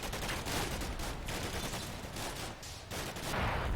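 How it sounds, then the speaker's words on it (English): Sustained, dense gunfire from BMP-3 infantry fighting vehicles and infantry in the Combat Mission war game, a continuous loud barrage of overlapping shots and bursts with no let-up. "The BMP-3s are putting plenty of fire out to keep the enemy's heads down."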